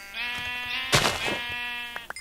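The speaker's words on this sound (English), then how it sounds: "Let's kill some sheep." Sheep in the video game Minecraft bleating, two wavering harmonic calls, then a sharp hit or clattering noise mid-clip and brief clicks at the end, close and clear.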